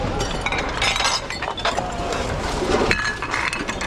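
Broken ceramic dishes clink and clatter as they are picked through in a dumpster, with continuous close, loud rattling and sharp glassy chinks throughout.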